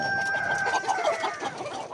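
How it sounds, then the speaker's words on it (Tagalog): Several black Chinese roosters cluck and chatter continuously at close range, a busy overlapping flock with no talking. "Yan, mga tandang ha."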